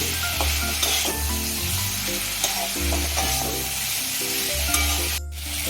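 A tomato paste mixture sizzles in a pan while being stirred, a steady close frying hiss broken by repeated scraping strokes of a spoon against the pan, with no talking.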